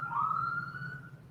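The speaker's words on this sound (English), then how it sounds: "that there are sirens in the background." An emergency siren wails faintly in the distance, one sustained tone holding then easing over a low background hum, with no one speaking.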